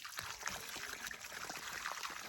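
Water trickles and splashes steadily as someone rinses their face outdoors, a continuous close pouring and dribbling sound with small splashes throughout.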